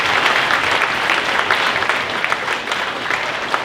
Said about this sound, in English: if we could just give them a nice round of applause